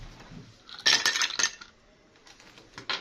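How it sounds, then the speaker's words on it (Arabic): Ice cubes dropped into a glass while making iced coffee with black instant coffee and milk, a few bright clinks and rattles in two short bursts with quiet gaps between. "هحط بقى التلج"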